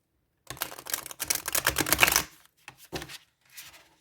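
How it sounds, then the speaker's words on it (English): Tarot cards are shuffled overhand and riffled, then bent into a bridge, giving a dense flurry of crisp papery flicks and snaps up close, followed by a few short separate card rustles. "it's really nice to shuffle, overhand and even riffle shuffle"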